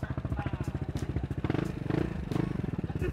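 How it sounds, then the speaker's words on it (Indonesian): Aftermarket Akrapovic exhaust on a motorcycle idling nearby, a steady, rapid loping putter of firing pulses with a slight rev swell midway, loud and continuous throughout. "Suara knalpotnya, ini knalpotnya udah nggak standar,"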